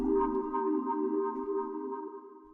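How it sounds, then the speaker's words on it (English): A sustained minimal house synth chord with chorus giving a gently wavering, shimmering, watery texture, holding steady and slowly fading, no voices. "a little bit of chorus definitely goes a long way for adding that nice kind of like watery texture to it"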